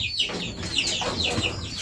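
A Shamo chicken clucks close by, a quick run of short, throaty clucks and chirpy calls over a faint background hum.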